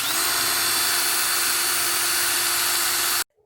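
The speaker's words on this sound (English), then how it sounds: "first I need to drill a hole here in the middle of this and here where these prongs are" A power drill boring a hole through plastic, a loud steady high-pitched whine running continuously for about three seconds before stopping abruptly, close up with no talking.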